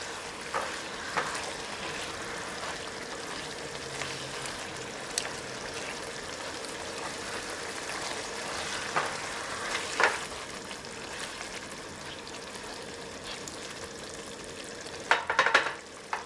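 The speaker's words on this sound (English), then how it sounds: "we're just going to give the green onions a nice swirl" Green onions stirred through bubbling mapo tofu in a pan, a soft continuous sizzle with gentle spoon scrapes and a few louder clinks near the end, quiet and steady with no talking.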